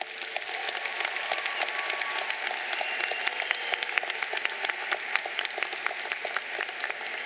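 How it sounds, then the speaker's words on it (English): A large audience at a university commencement applauds the faculty with steady, dense clapping that holds evenly throughout, a broad, somewhat distant wash of hands with no voices over it. "Please give our faculty a round of applause."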